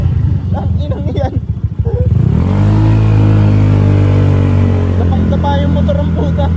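A motorcycle engine clatters at idle, then revs up and holds a loud, steady, close drone, with people talking over the early part.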